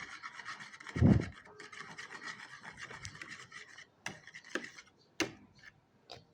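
A whisk scrapes and rasps through pancake batter in a bowl, with one loud burst near the start, then quieter steady stirring and a few sharp clinks against the bowl.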